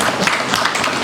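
An audience at a lecture on inequality and education breaks into brief, dense clapping, a short even burst of many hands with no talking over it.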